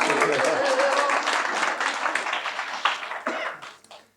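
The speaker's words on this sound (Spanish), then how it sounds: "Un aplauso para..." An audience claps through a steady wash of applause with a voice talking over the start, then the clapping thins and fades toward the end.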